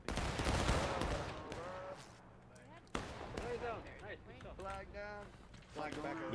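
A massed musket volley in the Civil War game War of Brothers cracks out as one sharp, loud burst partway through, amid shouted voices and battlefield din.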